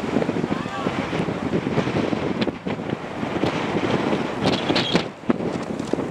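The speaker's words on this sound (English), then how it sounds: "Breezy here, folks." Strong wind buffets the microphone outdoors, producing loud, continuous low rumbling gusts that swell and ease throughout.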